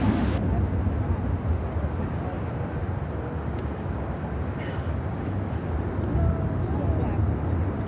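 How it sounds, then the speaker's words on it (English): Asiana Cargo Boeing 747-400 converted freighter taking off at Chicago O'Hare, heard as a steady, low rumbling engine roar at moderate distance, fairly subdued and continuous throughout. "This is Asiana Cargo 242 taking off to Dallas Fort Worth, the 747-400 converted freighter"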